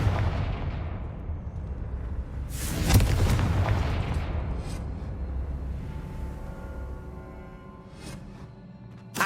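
A Confringo blasting-curse explosion in the Hogwarts Legacy game: one deep booming blast after a low rumble, followed by a long fading roar and scattered debris crackles.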